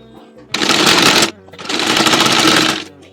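Sewing machine stitching lace onto a small doll dress bodice, running in two close, loud bursts of rapid whirring with a short pause between.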